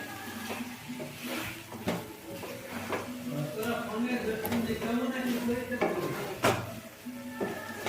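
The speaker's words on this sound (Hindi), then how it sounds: "और आलू और मसाले को मिक्स कर लेंगे अच्छे से यहाँ।" Fried potatoes being stirred with spices in a pan for a dhaba-style dum aloo, spoon scraping and clinking against the metal with a faint sizzle underneath, steady and close throughout.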